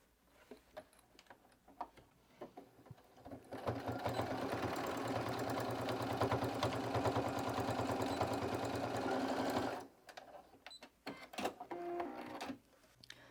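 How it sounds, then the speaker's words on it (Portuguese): A sewing machine runs a securing seam on a fabric pencil case before bias tape is attached, a steady close mechanical hum with rapid needle ticking lasting about six seconds, with quieter handling clicks and rustles before and after. "eu vou passar uma costura aqui de segurança, para o tecido ficar bem paradinho na hora da gente costurar o viés"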